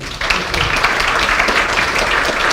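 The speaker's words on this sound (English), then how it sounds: "Can we have a round of applause?" Conference audience applauding at the end of a Python programming talk, a continuous burst of clapping from a seated crowd, fairly loud and sustained with no voices over it.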